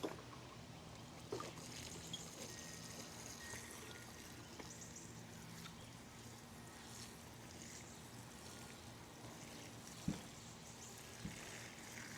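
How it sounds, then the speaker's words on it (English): Water from a watering can pours steadily onto a garden bed planted with Detroit red and golden beets, a soft continuous trickle and splash, faint and even, with a couple of small knocks. "So go ahead and get all of that watered in."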